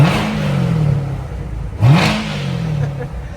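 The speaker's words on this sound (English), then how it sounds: "we'll give it a few revs" A supercharged 2018 Corvette Z06 2LZ coupe with an automatic, its 650 hp engine revving up twice, close and loud. Each sharp climb falls back to idle.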